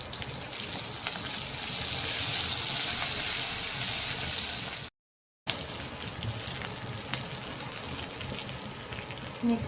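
Garlic and green chillies frying in a pan, a steady close sizzle and crackle that runs nearly the whole time, broken by one short cut to silence, with no talk.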